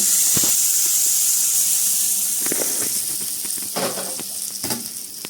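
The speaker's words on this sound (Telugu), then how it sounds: "ఇప్పుడు మనము చట్నీలోకి తాలింపు అనేది యాడ్ చేయాలి." Hot tempering pours into peanut chutney with a loud, close sizzle and hiss, broken by several sharp spoon knocks and scrapes as it settles; no talk.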